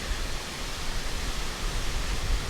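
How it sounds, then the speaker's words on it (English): Lower Calf Creek Falls in Utah pours in a steady, close, full-bodied roar of falling water, an even broadband rush with no pauses and no voices. "this waterfall is creating the best sleep sound"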